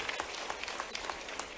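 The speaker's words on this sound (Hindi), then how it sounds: "जोरदार ताली बजाओ" A crowd claps loudly in a quick burst of hand applause at a youth dialogue event held with the Madhya Pradesh chief minister. The clapping is dense and steady, with sharp individual claps standing out.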